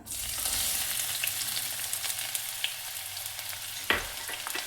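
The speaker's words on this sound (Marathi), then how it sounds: "आता टाकत आहे मी बारीक चिरलेला कांदा, साधारण एवढा," Finely chopped onion dropped into hot oil already seasoned with cinnamon pieces and bay leaf, sizzling and frying steadily and close, with a brief stirring clatter near the end and no talk.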